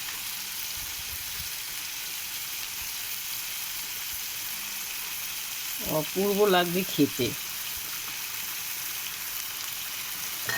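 Vegetables fry in a pan with a soft, steady sizzle throughout, while someone briefly speaks over it partway through.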